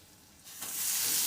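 Dal tipped into a hot pan of spices and onion, a sudden sizzle that swells quickly from a quiet hiss to a loud, bright frying rush.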